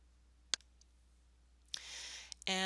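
One sharp, quiet computer mouse click sounds in a hushed room, followed by soft rustling noise and the brief start of a voice.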